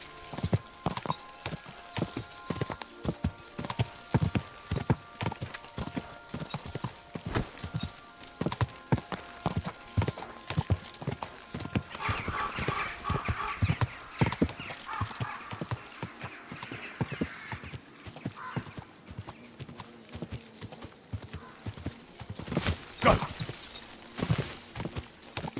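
Rapid, steady clip-clop of horse hooves in a medieval Bohemia video game, continuing for the whole stretch with loud regular hoofbeats and occasional whinnies, no talk over it.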